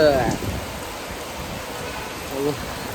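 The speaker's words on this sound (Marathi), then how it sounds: "तर पाऊस आला एवढा जोरात" Dense, steady hiss of heavy rain pouring down, with brief voice fragments at the start and near the end.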